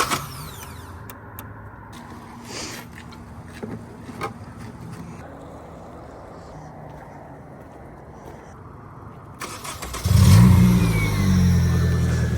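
An SR20-powered Infiniti G20 that is running out of gas turns over weakly and rumbles under faint clicks. Near the end the engine catches and surges into a loud, close rev.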